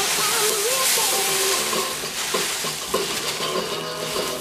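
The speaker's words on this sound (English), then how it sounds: "I got to stir it in so it don't get dough balls" Nine pounds of grain being stirred into a home-brewed Christmas beer mash, a steady close wet swishing and hissing that runs unbroken, with a few soft knocks of the paddle.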